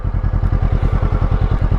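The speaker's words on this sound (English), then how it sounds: "So that's what she sounds like on tick over" A Honda NX500 motorcycle fitted with a new exhaust idles close up, with a steady, rapid, lumpy thump of the twin-cylinder engine and a slight mechanical clatter.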